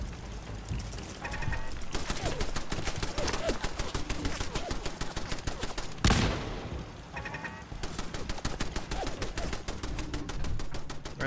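Heavy gunfire rattles through a firefight in the video game Fallout 4, with rapid automatic bursts and sharp single shots close and loud, one big blast midway, and hardly any pause.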